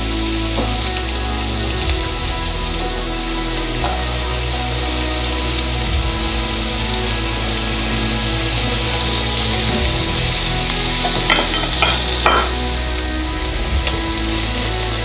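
Meat and garlic sautéing in a hot pan while cooking menudo give off a steady, dense sizzle that crackles evenly throughout, with no voices over it.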